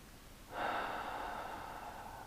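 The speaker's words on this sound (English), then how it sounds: "It's good to take a couple of, maybe 2 or 3 deep breaths" A single slow, deep breath drawn in and eased out during relaxation for meditation, soft and close, alone in a quiet room.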